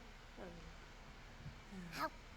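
A werewolf baby in The Sims 4 makes faint, brief howling whimpers, one soft rising cry early and a brighter, higher yelp near the end, over quiet background.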